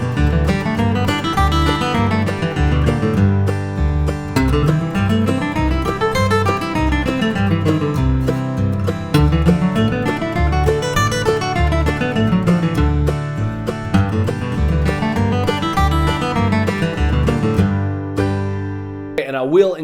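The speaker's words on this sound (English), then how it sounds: "I'm going to play that along with a strum machine backing track." A guitar runs through a blues scale at about 100 beats per minute over a strum machine backing track for bluegrass, with steady rhythmic strumming under ascending and descending note runs, close and loud throughout.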